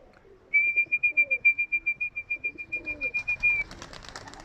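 A single steady, high whistling tone with a fast pulsing flutter runs for about three seconds as pigeons are released, with soft low murmurs and rustling around it.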